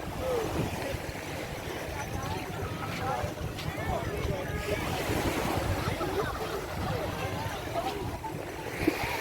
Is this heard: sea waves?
yes